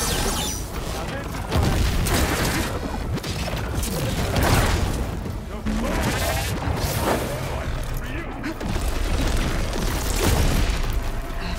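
An enemy machine firing down stairs in the video game Horizon Forbidden West, heavy repeated booms and crashing impacts with clanking mechanical noise, under intermittent talk.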